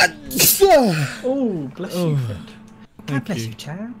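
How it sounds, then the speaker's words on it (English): One big sneeze bursts out near the start, loud and close, followed by a short spoken thanks and more talking. "That was a big old sneeze."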